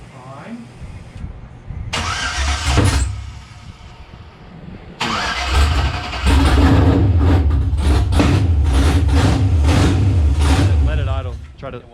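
A car engine cranks and catches in a loud burst, falls back, then starts again and revs hard and unevenly without settling into an idle, with voices talking over it.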